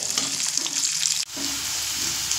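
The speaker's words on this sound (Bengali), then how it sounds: "এবার আলুগুলো মিডিয়াম ফ্লেম করে ভেজে নেব" Potatoes fry in oil over a medium flame, a dense close sizzle that dips briefly as they are turned, then carries on evenly, with no voices.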